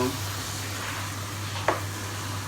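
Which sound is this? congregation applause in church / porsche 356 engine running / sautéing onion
sautéing onion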